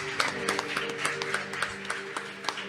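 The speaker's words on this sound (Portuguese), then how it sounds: "Se você crê, aplauda o nome dEle." A church congregation at a worship and baptism service claps in a quick, fairly regular rhythm, a dense wash of hands over low sustained music, moderately loud and steady throughout.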